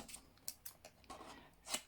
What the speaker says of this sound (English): I've got a bit of card stuck to my scissors.